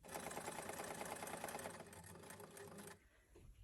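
A sewing machine stitches continuously with a steady mechanical whir while sewing the lining of a reversible, fold-away tote shopping bag, then stops abruptly near the end, leaving a quieter room.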